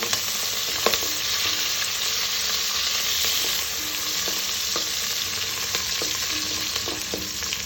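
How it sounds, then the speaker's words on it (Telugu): A small onion fries in hot oil with cloves until brown, making a loud, continuous close-up sizzle broken by occasional faint stirring clinks, with no voices. "చిన్న ఆనియన్ ఒకటి సరిపోతుంది బ్రౌన్గా ఫ్రై అవ్వాలి"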